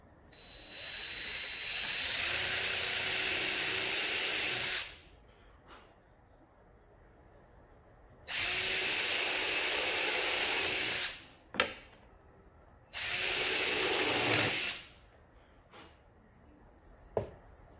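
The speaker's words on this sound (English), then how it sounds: "Drill that tiny hole." A drill whines in three separate bursts, each lasting a few seconds, drilling a small hole in a 1x4 wood board, with quiet pauses and a couple of short clicks between them.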